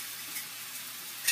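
Liquid is poured over hot food in a pan with the heat just switched off, giving a steady, soft hissing sizzle that holds evenly and swells slightly at the end.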